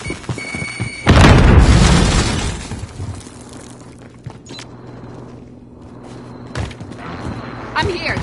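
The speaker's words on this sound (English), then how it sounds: "Grenade out!" A grenade explodes in the Warzone shooter game with a loud, deep booming burst that rumbles for about two seconds. A quieter battlefield din of gunfire and voices continues around it.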